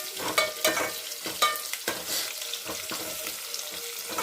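Ingredients for averebele sambar fry in a pan, with a continuous sizzle broken by repeated rhythmic stirring scrapes close by.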